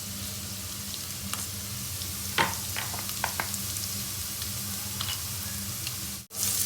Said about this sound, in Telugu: ఈ ఆనియన్స్ గోల్డెన్ బ్రౌన్ అయ్యేంత వరకు వేయించుకోవాలి ఆనియన్స్ని.